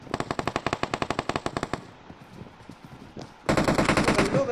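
Automatic gunfire in a shooting video game: a rapid burst of evenly spaced loud shots, a brief lull with scattered quieter pops, then another dense sustained burst, close and dominant with no talk.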